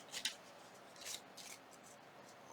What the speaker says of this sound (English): I'm going to bring in my scissors, and I'm just going to trim right here, just like this